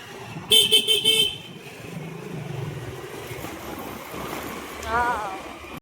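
Road traffic with cars: a short burst of repeated horn honks near the start, followed by a steady wash of passing-vehicle noise and a faint second toot near the end.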